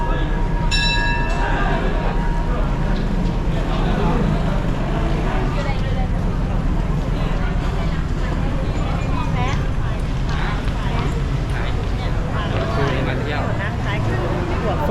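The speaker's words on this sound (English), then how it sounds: "That's the train, guys." A train pulls into Maeklong railway market station, with a horn blast early on followed by a continuous rumble under a bustling crowd and nearby chatter.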